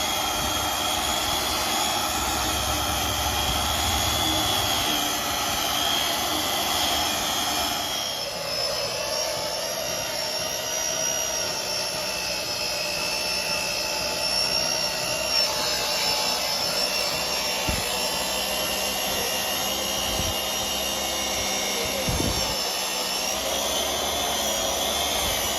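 A buffing machine polishing the clutch cover of a 2008 Standard Bullet 350 motorcycle engine during a restoration in a workshop: a continuous, high-pitched motor whine with a layered tone that shifts lower partway through.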